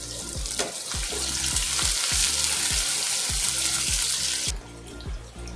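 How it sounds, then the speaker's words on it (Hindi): Onions dropped into hot oil in a home kitchen pan while cooking an aloo baingan sabzi, giving a loud continuous sizzle and hiss close by, overlaid with a repeating low rhythmic hum, easing off abruptly near the end. "तेल गरम हो चुका है, मैं प्याज डाल दे रही हूँ।"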